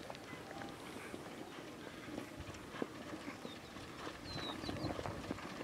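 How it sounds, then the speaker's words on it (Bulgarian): Horse hooves clip-clopping at a village stable in Bulgaria, a soft, uneven run of hoof knocks heard at a distance, faint and steady beneath outdoor background noise, with no one speaking. "Това е втория кон."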